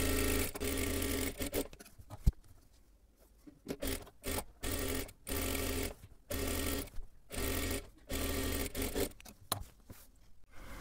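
Sewing machine stitching a blouse seam, humming in repeated short close bursts separated by brief pauses, loud and clear with no voices.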